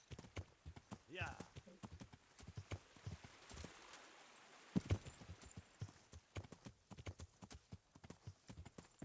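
Horse hooves clip-clop in irregular bursts in Kingdom Come: Deliverance, with a short whinny early on and a sharp thud midway, close and fairly quiet.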